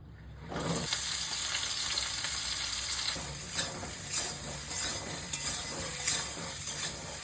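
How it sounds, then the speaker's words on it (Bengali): Ridge gourd pieces fry with salt and turmeric in oil already used for frying fish, producing a loud, continuous close sizzle and hiss with occasional stirring pops. "এই তেলেতেই ঝিঙেগুলো নুন হলুদ দিয়ে ভেজে নেব।"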